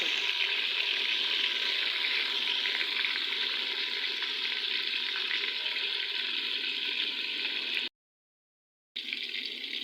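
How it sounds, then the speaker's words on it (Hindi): Chicken frying in ghee, a steady loud sizzle that holds without a break for about eight seconds, cuts out briefly, then returns. "इसको इस तरीके से हम हिला लेंगे ताकि ये चिपके ना साथ"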